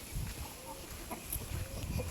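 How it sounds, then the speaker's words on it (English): A small pet chicken clucks softly in a few faint, scattered bursts against quiet background noise outdoors. "I have another little chicken"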